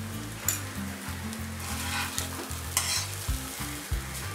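Schezwan fried rice with Schezwan masala and chilli powder being stirred and tossed in a hot pan, a steady sizzle under repeated scraping strokes of the spatula, close and fairly loud with no talking.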